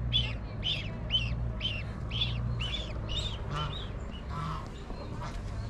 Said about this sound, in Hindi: तो बत्तख के ही बच्चे हैं।